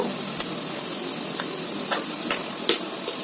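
An egg frying in a pan gives a continuous close sizzling hiss, with a few sharper pops and crackles breaking through at irregular moments.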